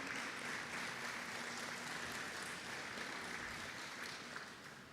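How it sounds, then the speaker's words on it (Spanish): A church congregation applauding during a Sunday service, steady dense clapping heard at a distance and fairly faint, running continuously for several seconds. "Denle un fuerte aplauso a nuestro Dios"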